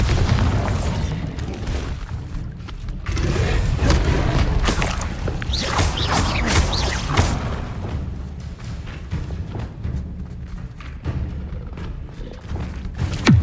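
Repeated Bombarda blasting spell explosions in Hogwarts Legacy, loud booming thuds and crashes layered over a continuous heavy rumble of combat, with rapid impacts throughout.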